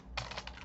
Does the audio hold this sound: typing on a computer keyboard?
yes